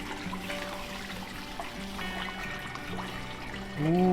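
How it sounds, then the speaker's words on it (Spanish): Water poured into a pot of catfish soup with chile, tomato and vegetables, a steady continuous pour and trickle heard alone with no talking. "Más agua."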